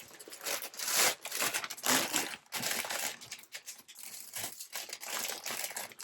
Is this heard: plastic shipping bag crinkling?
yes